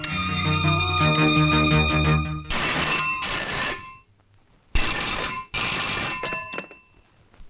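A telephone in a Malayalam thriller film rings during an outgoing call. Two long electronic ring bursts play close and loud with a short gap between them, after a stretch of background music.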